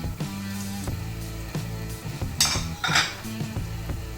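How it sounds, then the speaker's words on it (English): Dry spices tipped into spluttering cumin seeds in hot oil in a pan, with metal spoon clinks and scraping over a soft steady sizzle, a few brighter splutters cutting through. "The moment it starts to splutter, we add all the dry spices"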